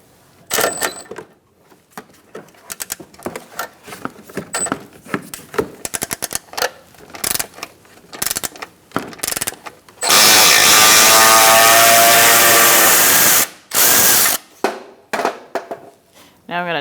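Bolts come out of a 2004-2009 Mazda 3 during a windshield washer reservoir replacement: scattered tool clicks and taps, then a loud power-tool whir of about three seconds, followed by a shorter burst.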